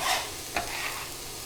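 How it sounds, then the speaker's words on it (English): Diced onions are sizzling in a pan as a wild mushroom risotto gets started, a brief bright hiss with one sharp scrape partway through, heard close and alone. "So the onions are going in."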